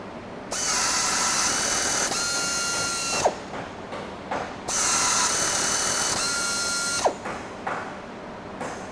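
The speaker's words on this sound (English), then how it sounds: "just articulate the tap over the part" Power tapping of a blind hole in stainless steel with a 1/4-20 bottoming tap: two loud, close whirring runs of a few seconds each, each ending with a sharp click as the tap reverses, with no talking.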